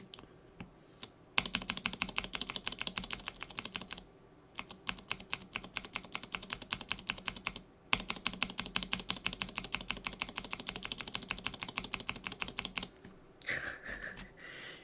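Mechanical keyboard switches typed on in rapid, steady bursts of close, crisp clicks and clacks, interrupted by a few short pauses, with no talking.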